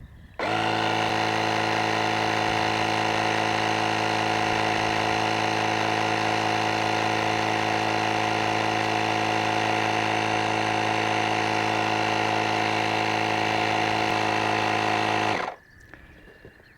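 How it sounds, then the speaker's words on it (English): A ShockFlo rechargeable portable air compressor, set to 10 psi, inflates a ball through a needle, a loud steady motor drone that starts abruptly, runs unbroken for about fifteen seconds, then stops, with no talk. "Place the needle into the ball, turn the unit on, turn the air pressure down to 10 psi,"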